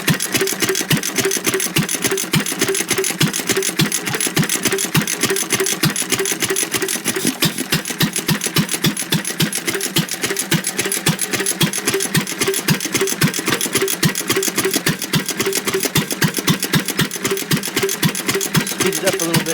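A McCormick-Deering M 1.5 HP stationary engine, a 1-1/2 horsepower hit-and-miss type with a vacuum-operated intake, runs steadily after a cold start, its rapid even firing beats close and loud throughout with no talk.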